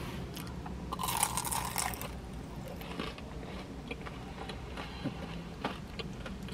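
Someone bites into and chews a Jollibee peach mango pie, with close, crisp crunching bursts of the flaky crust followed by softer, steady chewing sounds.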